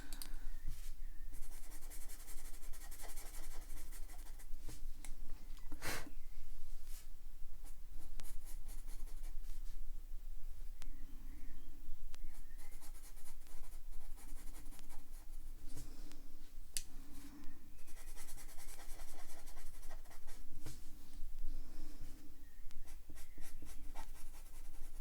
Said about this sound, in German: hier blende ich einfach ganz normal mit den Stiften